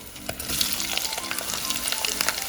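Onions sizzle and crackle steadily in hot oil in a pan while kadhi pakora is being made, with curry leaves already in the pan, the frying close and loud with occasional spoon clinks.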